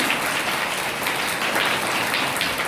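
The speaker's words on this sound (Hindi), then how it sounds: "मैं अनुरोध करूंगी कि एक बार जोरदार तालियों के माध्यम से इसका स्वागत करें।" Applause from the audience welcoming a professor at a Hindi Diwas college event, a steady dense clapping throughout, fairly soft and unbroken, with no voices over it.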